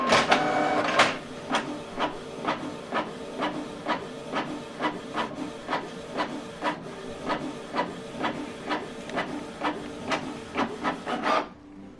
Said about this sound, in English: Click print. We just want to see if we're able to do this with this printer.